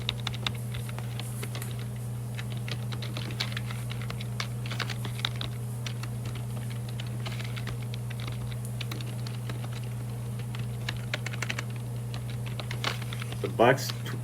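Computer keyboard typing runs steadily through the clip, soft clustered keystrokes over a constant low hum, with a brief louder sound near the end.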